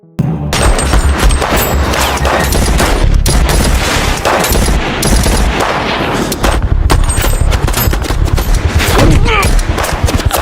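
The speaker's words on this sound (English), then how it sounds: "a shootout between the police and Mike's troops was unavoidable" A heavy movie shootout between police and troops, with dense, loud, continuous gunfire and rapid automatic bursts, booms and overlapping shots throughout.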